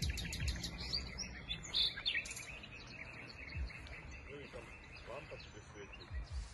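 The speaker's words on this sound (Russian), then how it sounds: "Как птицы поют." Birds singing outdoors near a house in Austria, bright quick chirps and tweets dense at the start and thinning out later, fairly faint, under a steady hiss with a few low thumps.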